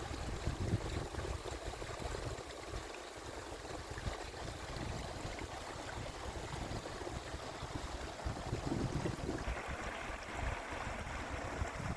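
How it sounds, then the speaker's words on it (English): Water rushing steadily along a stream near a cabin road, a constant broadband roar close by with no break or talk over it. "quite a bit of water running through here"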